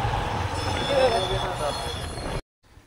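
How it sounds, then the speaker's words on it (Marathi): A steady, rumbling train roars past overhead while the listener walks beneath the railway, with grinding metallic texture, then cuts off abruptly into near silence. "रेल्वे चालली गेली का तका तका चालतोय बघा"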